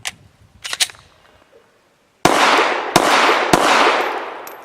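An M3D folding pistol fires three sharp, loud gunshots in quick succession at an outdoor range, each with a ringing decay, preceded by a few lighter metallic clicks and handling noises.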